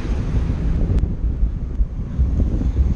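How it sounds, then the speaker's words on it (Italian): Strong outdoor wind buffets the microphone on a bike ride, a loud, continuous low rumble with rough gusty fluctuations and no talk. "Il vostro vento è micidiale"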